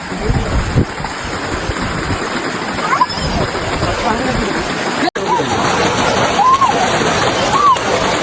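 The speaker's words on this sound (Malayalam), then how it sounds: "ഈ കാണുന്ന ഏലക്കാട് നമ്മുടെ അതിന്റെ അകത്തൂടി അവിടുന്ന് ഒഴുകി വരുന്ന വെള്ളം ഇത്." Rainwater runs as a small stream through a cardamom plantation after heavy rain, a steady close rushing and splashing wash that holds throughout, broken by one sharp click partway.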